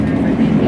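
A passenger train runs on rails near Marsden, a low steady rumble and roar heard from inside the carriage, continuous and fairly loud over the short stretch.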